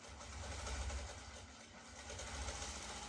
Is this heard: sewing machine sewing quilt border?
yes